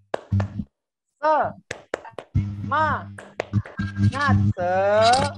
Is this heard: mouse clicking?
no